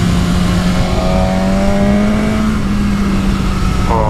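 Aprilia RSV4 1100 Factory motorcycle engine pulling hard under acceleration, a loud steady high-revving drone with climbing pitch, close and continuous, with wind roar.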